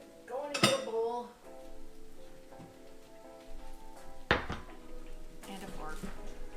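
A bowl and cutlery for guacamole clattering on a counter, with a sharp ringing clink at the start, another bright clatter midway and softer knocks later, while a person talks quietly between them.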